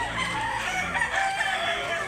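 A rooster crows at a chicken market in Consolacion, Cebu, a single drawn-out call rising over a dense, steady wash of market noise and other fowl.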